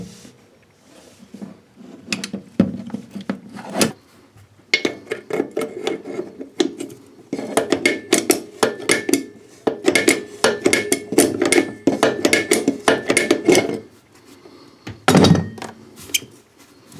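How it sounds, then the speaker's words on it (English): Locking pliers working a nut loose on the copper supply pipe of a basin tap, giving irregular metallic clicks, scrapes and knocks in clustered bursts with brief pauses, close up and with no talking. "I need to untie this nut at the end of the copper pipe. To do this, I'm gonna use locking pliers."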